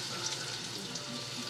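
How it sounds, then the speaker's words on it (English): Sliced zucchini fries in a hot pan with extra garlic, a steady soft sizzle and crackle running continuously at close range, with no talking. "As I'm frying them right now."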